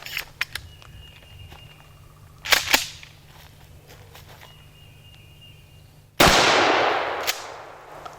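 A Mossberg 590 Shockwave shotgun fires 9-pellet Winchester buckshot: one loud, close blast with a ringing decay, preceded by a few lighter clicks and knocks.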